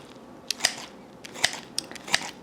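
A knife cuts fish fillets into four pieces on a board for air-fried fish, giving several quiet, sharp taps and slices in a short, irregular sequence.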